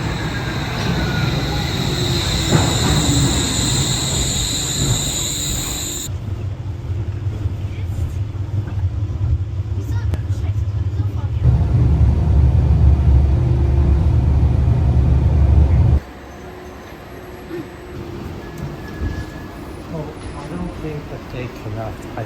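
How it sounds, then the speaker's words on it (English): The Wuppertal suspended monorail rumbles into a station close and loud, low engine noise building and holding steady before dropping off abruptly, with a voice speaking over it. "And here comes our train"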